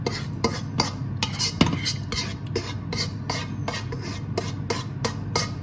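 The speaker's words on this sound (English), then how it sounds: "I'll put all my sauce in the smaller pan, in the saucier." Sauce being moved from a pan into a smaller saucier in a home kitchen while making Zurich Geschnetzeltes, with steady close scraping and rasping of utensil against metal and regular sharp clinks throughout.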